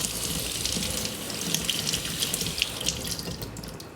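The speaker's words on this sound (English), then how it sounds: "So you're going to take your shawl and get it wet." A knitted shawl is soaked under a running faucet into a sink, giving a steady close splashing rush of water for the whole stretch, with no voices.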